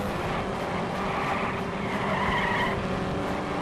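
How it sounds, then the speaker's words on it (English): In the Indianapolis 500 Evolution video game, an IndyCar's tires slide and squeal as it exits corner 4 at Indianapolis, a continuous rasping skid layered over the steady, loud drone of the engine with no talking. "I had to lift off in the center of the corner and slid the tires on the exit"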